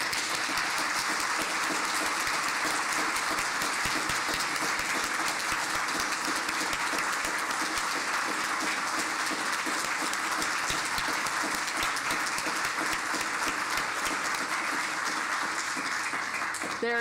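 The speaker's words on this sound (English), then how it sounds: "I want the loudest applause you can possibly give" A large audience at a tribute event gives sustained, loud applause, a dense and unbroken roar of clapping that holds steady throughout with no pauses.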